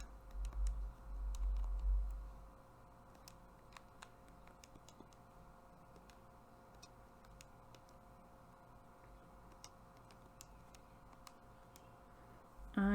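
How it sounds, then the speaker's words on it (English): Soft, irregular key taps clicking on a calculator keypad, faint and close, over a low background hum with a brief rumble at the start. "So typing all of this into my calculator,"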